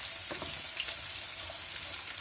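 Steady crackling sizzle of chicken wings frying in a covered pan, with scattered pops and spits throughout and no talking.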